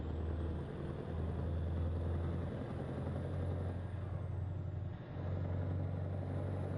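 A Peterbilt truck engine idling in American Truck Simulator, a steady low diesel drone with a faint high whine above it, dipping briefly once and then resuming, with no other sound.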